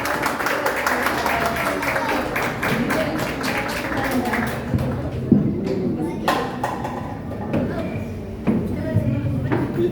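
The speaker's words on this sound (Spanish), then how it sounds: "un aplauso para la señora" A room at a municipal OMAPED book presentation for author Lis Rojas applauds a woman; dense, steady clapping fills about ten seconds alongside talking and murmuring voices, with a few sharper claps and thumps standing out.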